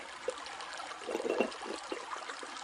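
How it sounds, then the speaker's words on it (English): Liquid poured into a chia pudding mix, a short close trickle with uneven glugs and splashes that peak in the middle, no voices. "So let me go ahead and pour that in."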